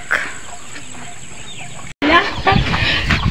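A chicken clucks up close on a farm in the hills, with loud repeated clucks and squawks that jump out after a short break. Voices and outdoor noise sit under it.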